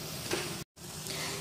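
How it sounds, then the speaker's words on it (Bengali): Veg Manchurian balls fry in hot oil with a steady, close sizzling hiss, broken by a short silent gap partway through before the crackle resumes. "এতগুলো আমার ফ্রাই হয়ে গেছে আর বাকিগুলো আমার ফ্রাই হচ্ছে"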